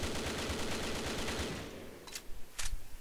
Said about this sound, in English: So this is going to be the AK-12 full auto,